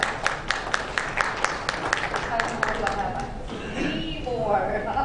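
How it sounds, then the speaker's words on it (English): Audience at a corporate AI summit presentation breaks into applause, a steady patter of clapping with scattered sharper claps that fades after a few seconds, leaving crowd murmur. "Big round of applause."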